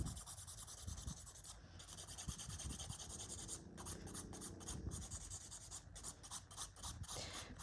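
A nail file rasps back and forth on gel nail tips during a manicure, making soft, quiet, close scratching strokes in an irregular rhythm. No voices are heard.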